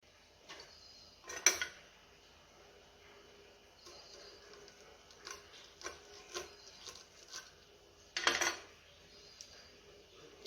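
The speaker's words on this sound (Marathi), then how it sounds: "तर अशा प्रकारे आपण मिरच्या कापून घेणार आहोत" Green chillies being sliced with a knife for stuffed chillies: quiet, sparse scraping and tapping on a board, with a couple of louder clattering bursts between long soft stretches.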